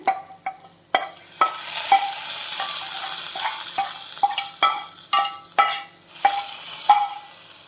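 Sautéed onions scraped into a Kerala-style fish curry and stirred, giving repeated sharp spoon-against-pan strikes over a steady sizzle, close and fairly loud with no voices.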